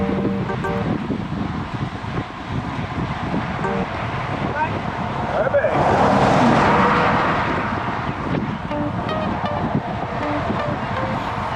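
A car comes up from behind a group of road cyclists, its swell rising over steady wind buffeting around 5–8 seconds before easing off, with riders' voices faintly under the rush.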